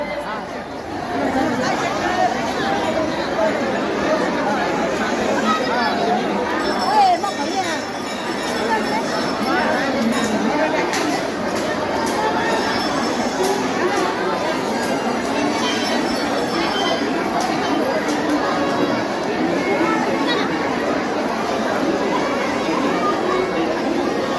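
Dense crowd hubbub at the Lakshmi Devi temple fair (jatra), a steady babble of many voices with occasional clinks and faint bell-like tones, continuous and close throughout.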